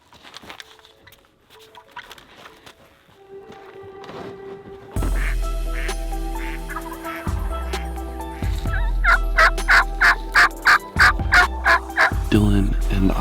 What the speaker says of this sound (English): we're gonna wait for that first gobble this morning